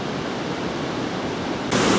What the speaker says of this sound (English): this is the river Rambamba. That is curious, but it makes an awful noise